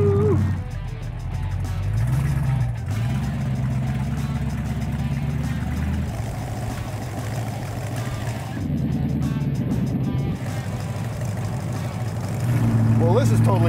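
A gasser wagon with a bubbletop body and no exhaust baffles roars loud and steady close by, its engine pulsing and swelling slightly as the revs rise and fall, with voices talking over it.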